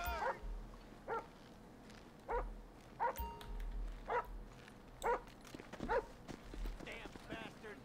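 A police dog in the video game GTA 5 barks in a steady run of about eight evenly spaced barks, with voices talking faintly underneath.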